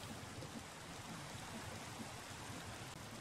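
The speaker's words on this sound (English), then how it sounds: "Hopefully this rain will go away." Steady rain hisses in Minecraft with the ATM8 modpack, a dense, even wash of falling water that stays faint throughout with no talking and no clear thunder.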